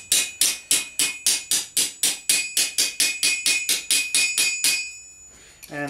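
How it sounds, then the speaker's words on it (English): A small round-edged hammer taps armour metal down over an anvil edge, about twenty sharp, ringing metallic strikes in a quick, even rhythm, close and loud, ending in a brief rattle. "Tapping it down, try not to bruise the material or put too much of a line into the back."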